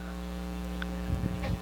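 A steady electric hum with a constant whirring drone, like a fan running nearby, with a few faint knocks and rustles toward the end.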